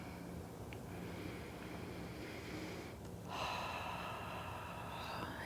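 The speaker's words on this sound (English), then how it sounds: "And after that last cleansing breath, just move into Ujjayi breathing." During a yoga session, a deep cleansing breath is drawn in and released, a soft airy rush that swells midway and trails off, heard close and quiet with no talking.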